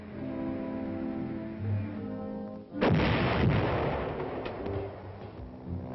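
Artillery fires during army winter training in snowy Hokkaido as a single heavy booming blast that rolls and decays for several seconds. It cuts in after a stretch of steady orchestral music.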